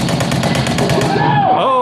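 Rapid machine-gun bursts from the Aliens Extermination arcade shooter, loud and continuous, with electronic game tones and a rising whine near the end.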